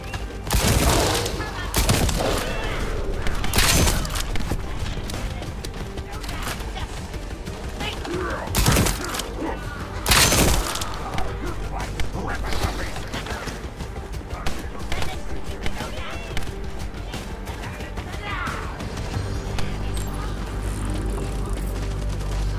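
Gunfire in the sci-fi shooter The First Descendant comes in rapid bursts and single loud shots, with heavier blasts at intervals over a continuous game soundscape, while voices talk throughout.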